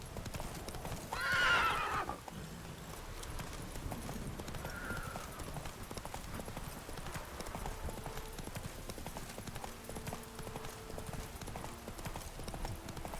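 Roach, the horse in The Witcher 3, lets out a loud whinny early, then keeps galloping with steady, rhythmic hoofbeats over quiet game ambience.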